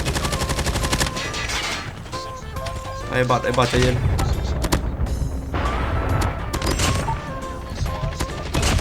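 Rapid automatic gunfire from a CR-56 AMAX assault rifle with explosive rounds in the video game Call of Duty Mobile, loud dense bursts with crackling blasts while someone talks excitedly over it.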